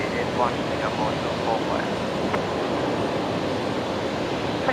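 Singapore airliner taxiing past on taxiway Bravo at Brisbane Airport in the evening, a steady broad engine roar with no clear rise or fall, with chatter layered underneath.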